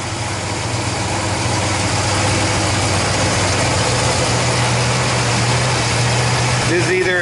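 A 1967 Pontiac Le Mans V8, a 326 or 400, idles steadily with a low, even rumble throughout, someone talking briefly over it near the end.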